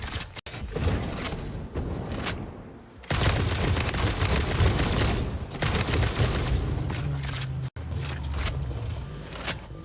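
Sustained gunfire in the factory-building video game Satisfactory, a dense, loud rattle of rapid shots running almost unbroken for ten seconds with two brief gaps.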